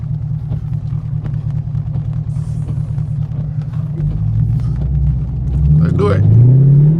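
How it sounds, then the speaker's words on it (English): A 500 hp catless Camaro SS approaches with a steady low rumble that swells, then revs hard and rises in pitch as it passes close and loud, with faint voices underneath. "it's a car coming"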